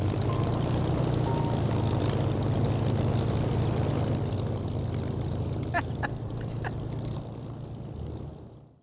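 A Supermarine Spitfire's propeller engine drones steadily at a moderate distance, a low sustained hum that slowly fades away toward the end.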